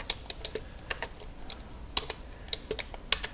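Computer keyboard being typed on, light irregular clicks and key taps in short bursts, close and quiet against a soft background hiss.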